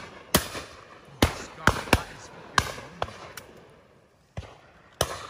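Shotgun shots at a clay target shooting ground, heard as sharp cracks popping out in irregular succession, about ten reports spread over five seconds, some nearer and louder, others fainter, in open air.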